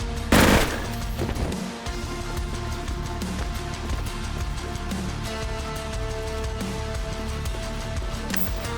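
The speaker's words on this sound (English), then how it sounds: "Who's shooting me?" Rapid automatic gunfire in the shooter video game Intravenous 2, a loud opening burst followed by a sustained dense rattle of shots and mechanical clatter, with no voices.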